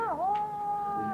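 A person imitates a Catwoman-style ecstasy meow, one drawn-out, wavering cat-like vocal cry that dips and then holds steady, close and clear.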